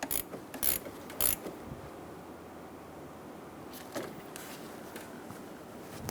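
A ratchet snugs down the bolt on the negative battery cable at the alternator of a 1988-1999 GMC K1500 5.7L V8, with a few quick ratcheting clicks and metallic taps over a quiet background.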